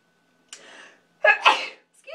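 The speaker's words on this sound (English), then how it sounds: "And I'm going to sneeze." A single sharp sneeze after a short sharp intake of breath, loud and close, followed by brief silence and the start of a voice.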